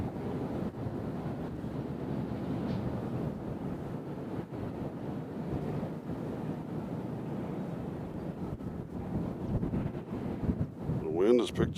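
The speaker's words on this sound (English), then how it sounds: "The wind has picked up just a little bit" Wind buffets a microphone outdoors at Nashville International Airport, a steady low rumbling gust that swells slightly toward the end, with a faint distant tone near the close.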